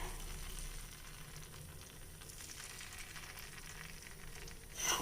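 Sweet paniyaram batter made with jaggery sizzles steadily in a hot paniyaram pan, a soft continuous frying hiss with no talk.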